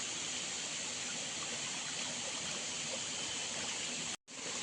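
A forceful spring stream in the Konkan woods pours in a steady, loud broadband rush, close and unbroken, with a brief dropout near the end.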